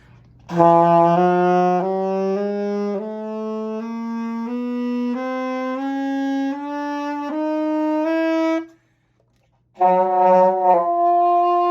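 Solo saxophone playing a slow ascending scale, a dozen or so sustained notes stepping from low to high, then a short pause and a few more notes, clear and close with no talking.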